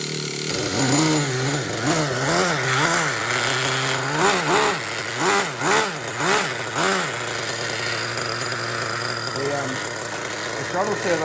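A Traxxas Revo 3.3 nitro RC truck engine from a barn find buzzes loudly and continuously, revving up and down in repeated surges, with people talking over it.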